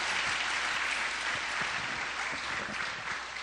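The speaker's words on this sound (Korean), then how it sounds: "뜨거운 격려의 박수로 우리 한번 했습니다" Church congregation applauding warmly during a Sunday service in a sanctuary, a dense, steady wash of clapping from many hands that holds evenly from start to finish with no voices over it.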